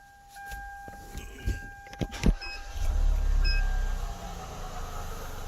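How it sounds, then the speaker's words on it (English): A 2014 Hyundai Veloster cranks and starts with an electronic chime, and its engine settles into a steady low idle. It is heard from close by, and no one speaks. "I'm gonna start the vehicle since I have everything hooked up"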